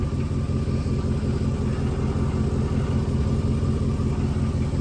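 A Jeep WJ engine idles under repair, running steadier than before. The close, continuous low rumble keeps an even pulsing rhythm for the whole stretch, with no talking.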